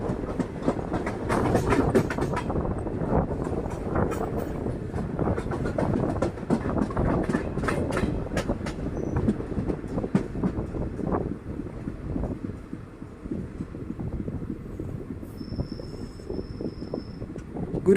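A small passenger train runs along the railway line near Thrissur, with a steady rumbling roll and faint clickety-clack heard from aboard, plus some wind buffeting, unbroken for the whole stretch.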